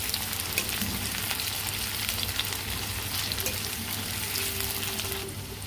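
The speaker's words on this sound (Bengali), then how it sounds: "সবার ফার্স্টে আমি দিয়ে দেব পেঁয়াজগুলোকে। পেঁয়াজগুলোকে ভাজবো।" Onions fry in hot oil in a pan with a dense, continuous sizzle heard up close, steady throughout and without any talking.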